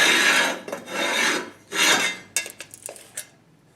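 Thin metal is cut or filed for an extended driveshaft on a 4x4 Ranchero, with three long, loud rasping strokes followed by a burst of shorter, lighter scrapes and clicks, close and with no talk.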